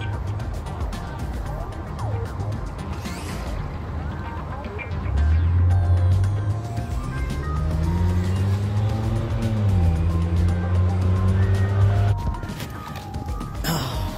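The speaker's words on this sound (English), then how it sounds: "That little car was following me." A small car drives past on a walk, its low engine tone swelling from about five seconds and shifting pitch as it passes before fading near twelve seconds, with outdoor background noise throughout.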